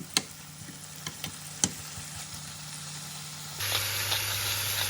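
Lamb fillet sizzles in a pan as it is turned to fry the other side, a steady close crackle punctuated by a few sharp clicks before the frying hiss suddenly swells louder.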